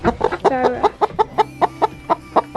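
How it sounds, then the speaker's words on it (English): A favourite backyard hen with a limp clucks in a steady series of short, close, fairly loud calls, about a dozen rhythmic clucks with no talking over them. "this is my favorite chicken."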